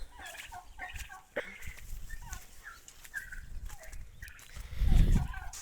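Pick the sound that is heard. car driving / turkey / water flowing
turkey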